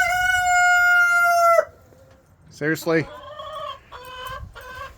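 A rooster crows loudly and close by, followed by the brief clucks of cranky backyard hens kept in their coop during a winter storm. A voice briefly speaks between the calls.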